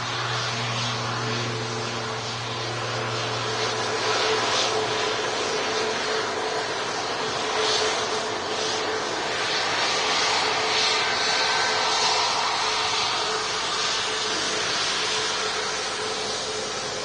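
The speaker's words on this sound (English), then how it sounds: "Also got this ATR 72 of Emerald Air heading back over to Belfast." An Emerald Air ATR 72 turboprop departing toward Belfast: a steady, sustained engine roar with a low droning hum, consistent and fairly loud throughout with no talking.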